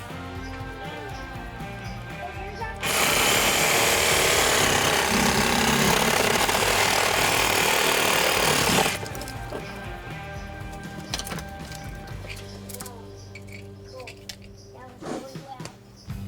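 Antlers being sawn off a large whitetail buck just above banding; a loud, harsh buzzing saw runs steadily for about six seconds, with people talking and handling noises before and after it.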